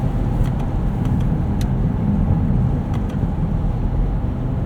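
A 2013 BMW X5 xDrive50i (E70) with very low mileage drives along, heard from the cabin as a steady, moderately loud engine and road drone with a few faint clicks and no talking.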